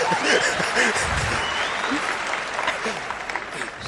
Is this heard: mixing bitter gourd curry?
no